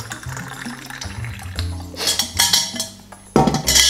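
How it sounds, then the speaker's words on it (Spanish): Hot water poured from a thermos into a gourd mate, a short uneven splashing trickle with brief pauses and a final burst, close and moderately loud, no voices. "lo que voy a hacer es tomar el termo y echarle otra capita de agua caliente"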